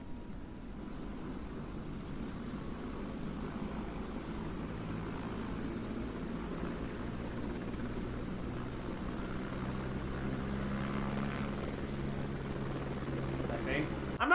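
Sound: helicopter in the video game Only Up

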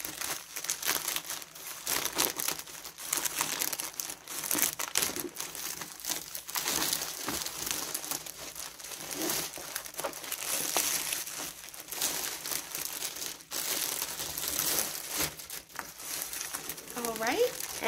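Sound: cutting packing tape open with scissors

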